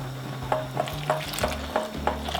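Flour and egg yolk are whisked with water in a bowl for yogurt soup, with a steady run of light, rhythmic scraping strokes about every quarter second, close and alone.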